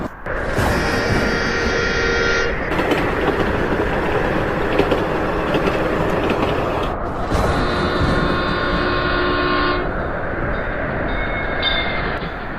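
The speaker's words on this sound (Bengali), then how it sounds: "এদিকে ঝড়ের মধ্যে প্রবল গতিতে ছুটে চলেছে আমাদের ট্রেন" Cartoon sound effect of a train racing through a storm: a loud, continuous rumbling roar with sustained whistle-like tonal blasts that start and stop in bursts over the noise.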